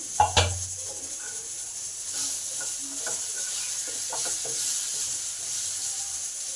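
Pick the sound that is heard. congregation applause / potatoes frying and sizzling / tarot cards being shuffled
potatoes frying and sizzling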